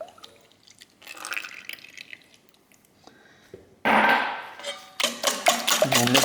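Milk pours into a bowl of beaten eggs, salt and pepper for a corn pudding, heard as close, loud liquid splashing in two bursts after quieter kitchen handling sounds.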